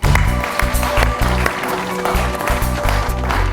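A studio audience on a quiz show applauds to welcome a contestant, with loud, dense clapping that continues for several seconds in uneven bursts close to the microphone.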